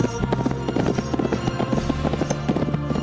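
Horses' hooves clip-clop in a quick, steady rhythm, fairly close and loud, with tonal music running underneath and no talking.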